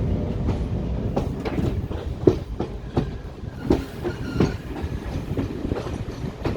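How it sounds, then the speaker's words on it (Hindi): The Chitrakoot Express pulls out of Katni Junction, its wagons rolling past with a steady clickety-clack of wheels over rail joints, moderately close and continuous without any talk. "हमारी ट्रेन, आपको मैं स्वयं दिखाता हूँ"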